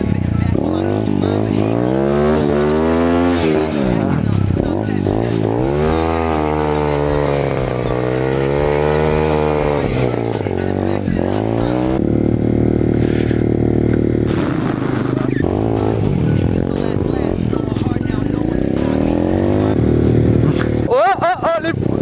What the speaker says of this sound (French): Petit wheeling ici.